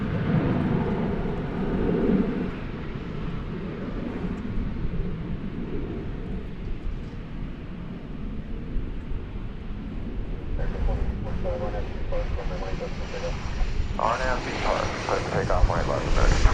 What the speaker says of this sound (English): American 2728 is coming into view now